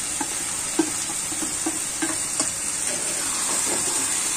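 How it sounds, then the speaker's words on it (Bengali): Cut potatoes go into a pan of frying eggplant with salt and turmeric, then are stirred; a steady sizzle runs throughout with repeated scraping stir strokes, close and fairly loud, no voices. "এখন আলু কাটা দিয়ে দেবো এর মধ্যে।"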